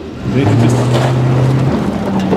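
A 2013 GMC Sierra Denali all-wheel-drive truck accelerates off-road up a snowy, muddy hill, its engine rising to a loud, steady drone close by.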